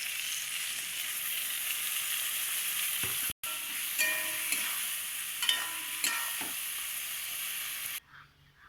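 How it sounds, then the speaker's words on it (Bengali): Ground mustard paste with dried chilli and garlic sizzles steadily in hot oil with pointed gourd and is stirred now and then, before the sizzle drops away abruptly at the end. "মশলাটা দিয়ে খুব সুন্দর করে আমি ভেজে নিচ্ছি।"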